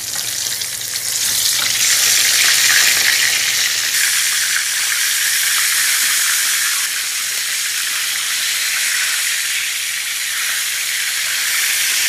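Çiğ börek pastries frying in hot oil make a loud, dense, continuous sizzle, a bright crackling hiss held close and steady for the whole stretch, with no voices.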